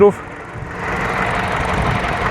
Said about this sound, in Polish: zajrzyjmy sobie pod maskę. Posłuchajmy tego silnika.